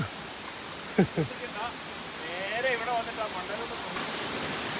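Vengathanam waterfall pours as a steady broadband rush of water, with a person speaking briefly over it partway through.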